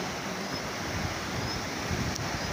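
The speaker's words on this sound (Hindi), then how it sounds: "ये पानी का शोर तो आप सुन ही रहे होंगे" A rushing stream beside a footpath in the Neelum Valley of Kashmir, a constant loud broadband roar of water that stays steady and close throughout.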